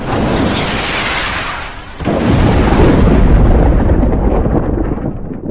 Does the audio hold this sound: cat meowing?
no